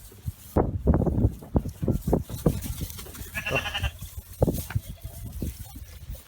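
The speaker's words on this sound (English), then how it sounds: "Baby goats." Baby goats bleat repeatedly on a farm, a run of short, loud, close calls that overlap one another, with other animal noises and some voices mixed in around them.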